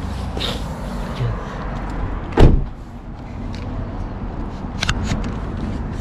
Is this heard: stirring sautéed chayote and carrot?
no